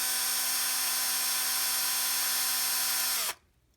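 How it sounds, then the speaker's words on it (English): A cordless drill whirs steadily at high speed, twisting wires together for a praying mantis wire sculpture, then winds down abruptly and stops near the end. "I have a wireless drill, and I stick the wires in there"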